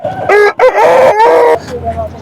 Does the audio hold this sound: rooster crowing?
yes